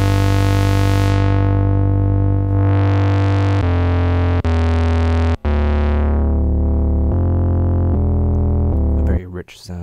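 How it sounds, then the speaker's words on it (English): A Nord Rack 3 synthesizer run through its distortion low-pass filter, a 12 dB saturation filter, plays loud sustained harmonic-rich notes and chords one after another, with filter sweeps opening and closing the tone. "the Distortion Low-Pass. So this is a saturation low-pass."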